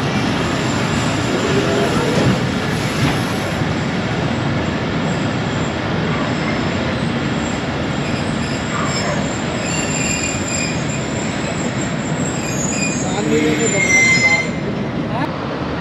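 The Bahauddin Zakaria Express passenger train runs along the track with a steady, loud rumble of wheels and carriages. High metallic squeals rise over the noise and grow sharper toward the end.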